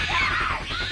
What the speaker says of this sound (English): provoking another epic scream from this little girl